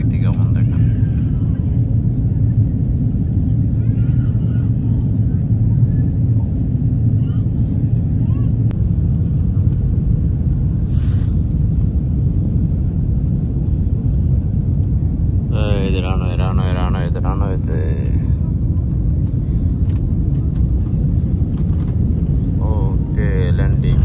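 Cathay Pacific airliner cabin rumble during descent and landing into Dhaka, a loud, constant low roar filling the whole stretch, with brief higher mechanical whines and faint voices in the background.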